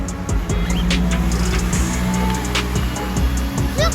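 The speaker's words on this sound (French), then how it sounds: "Il y a 2 voitures qui passent" Two cars pass by outdoors, a steady low road rumble swelling and fading across the few seconds with no voices over it.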